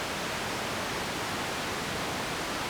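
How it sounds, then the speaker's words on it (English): Steady broadband hiss of white noise from a Takaab synthesizer module, bright and dense like TV static, held continuously at an even level with no other sound. "So this one feels a little more like TV static"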